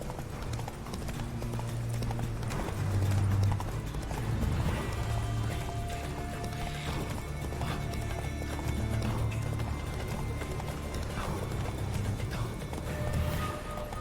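Hooves of Geralt's horse clip-clop at a steady gallop in The Witcher 3: Wild Hunt, a continuous rhythmic pounding with game music and ambience underneath and no clear talk.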